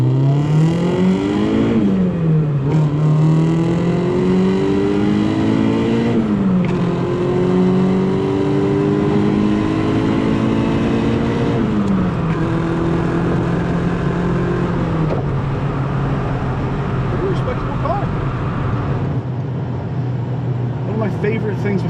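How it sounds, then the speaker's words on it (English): 1990 BMW E30 M3 Sport Evolution homologation car with 13K miles driving hard, its engine revving up through the gears with rising and falling pitch, heard loud from inside, with a voice talking over it. "Here we are driving the Sport Evo."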